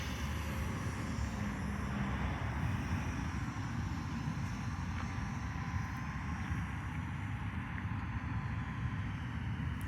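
A small foam 3D RC airplane flies overhead, its tiny electric motor giving a steady, continuous buzzing drone that stays at an even level with faint whining tones throughout.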